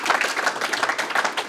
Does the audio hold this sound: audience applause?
yes